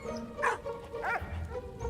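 Dog in the war video game Valiant Hearts giving two short barks close by over a low game soundtrack.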